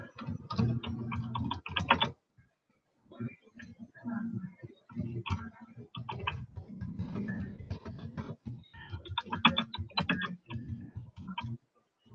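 Computer keyboard typing comes in rapid bursts of clicks at close range, with a short pause early on and steady irregular tapping afterward, no voices.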